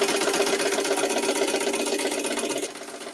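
A sewing machine runs steadily at speed, stitching fabric for a wet bag, its fast rhythmic clatter close and continuous before easing off near the end, with no talk.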